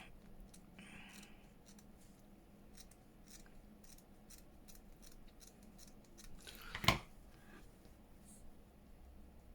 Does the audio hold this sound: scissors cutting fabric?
yes